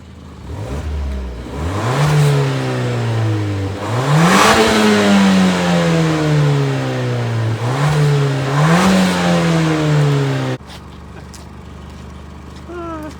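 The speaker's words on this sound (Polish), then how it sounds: "jak ten silnik mruczy pod obciążeniem" A second-generation Volvo V40 engine revs hard under load several times, the pitch climbing and dropping in repeated sweeps, loud and close, then cuts back to a quieter idle.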